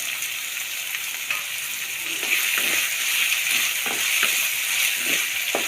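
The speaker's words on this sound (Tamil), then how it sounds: "தக்காளி வதங்கிறதுக்காக கொஞ்சமாக உப்பு சேர்த்துக்கிறேன்" Chopped tomatoes and onions sautéing with a pinch of salt in a pan for chicken liver fry, a steady close sizzle with faint scraping stirs throughout, no talking.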